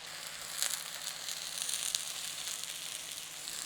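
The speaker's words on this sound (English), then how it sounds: "by cooking the tomatoes this way and actually putting that caramelization all over those tomatoes" Tomatoes sizzling steadily in a hot pan as they caramelize for a chicken Rogan Josh, a continuous close frying hiss with small crackles and no talking.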